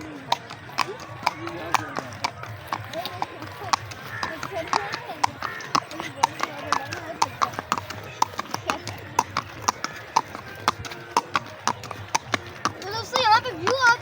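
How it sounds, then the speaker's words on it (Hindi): A white horse with long hair being ridden outdoors near a lake, its hooves clip-clopping in a steady, close rhythm while someone talks over the steps. "मैं घोड़े के ऊपर बैठा हूँ और बहुत ही खूबसूरत और वाइट कलर का घोड़ा है"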